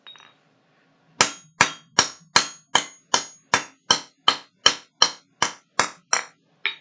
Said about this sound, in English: So I'm going out to the edge of the anvil and making sure that the hammer doesn't hit the anvil itself.